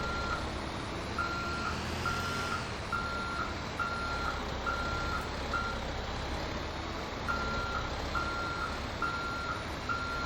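Vehicle backing up in GTA 5, a truck's reversing alarm beeping at a steady even rhythm over a constant low engine rumble, with a short pause in the beeping midway.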